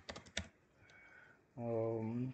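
A short run of quick keystrokes on a computer keyboard, close and crisp. A voice begins speaking right after.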